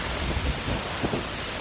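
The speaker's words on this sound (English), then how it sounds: "This is not even strong wind." Gusty wind roaring and buffeting the microphone, a constant broadband rush with low thumps, no voices.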